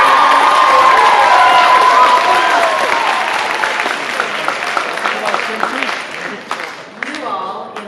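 Students at a school closing convocation cheer and clap loudly, a dense crowd roar with scattered whoops that gradually thins into individual claps and a few shouts.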